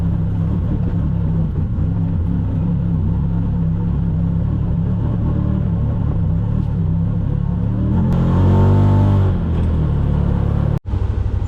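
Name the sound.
UTV engine revving on an off-road trail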